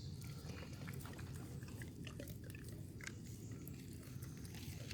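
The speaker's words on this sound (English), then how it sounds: "Let him chew it." A dog gnaws and bites on raw meat during a raw feeding, a continuous close run of wet crunching and chewing clicks, faint and steady with no talk.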